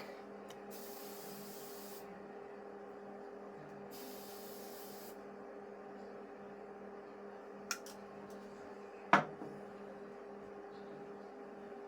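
Hairspray hisses from a can onto styled hair, taming flyaways. Several soft, sustained sprays come in two main bursts of a second or so each, followed by a couple of faint clicks and a sharp tap.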